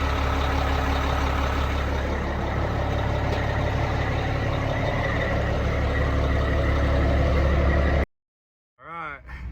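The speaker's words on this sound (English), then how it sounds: "Following the semi down the road." A semi truck engine runs in a steady loud rumble for about eight seconds before cutting off abruptly, followed by a brief whinny-like squeal.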